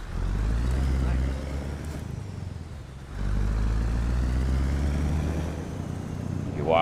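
A Scania R series truck in Euro Truck Simulator drives with a low, steady engine drone that dips briefly partway through, then returns at the same level.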